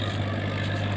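A tractor engine runs at a steady idle with a constant low throbbing hum, loud and close, with no other sounds.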